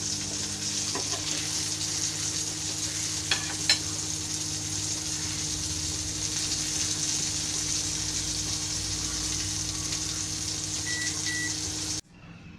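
Kerala-style fish fry sizzling in a pan, a steady, close crackle and hiss that holds for about twelve seconds with a few faint clicks, then cuts off abruptly.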